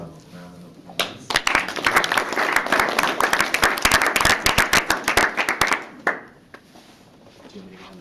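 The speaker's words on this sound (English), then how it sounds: "Let's give our panelists a round of applause." Audience applause for panelists at a universal health coverage side event: dense clapping builds from about one second, holds steady and loud for five seconds, then stops abruptly, with faint room murmur before and after.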